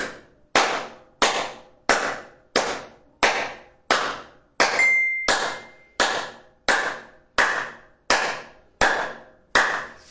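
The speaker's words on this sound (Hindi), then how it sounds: "तालियां बजाएं" Sharp hand claps in a steady rhythm during a group yoga session, about fourteen loud, close strikes spaced roughly every two-thirds of a second, each with a short ringing decay and no talk.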